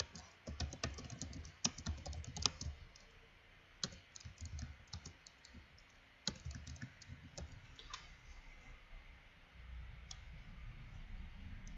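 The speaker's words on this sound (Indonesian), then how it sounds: "Silahkan mengetik dengan menggunakan 10 jari." Someone touch-types on a computer keyboard during a Microsoft Word typing exercise, producing quiet, irregular clusters of key clicks with brief pauses and no talking.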